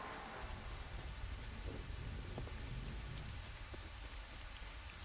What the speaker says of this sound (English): How's the rain noise for you?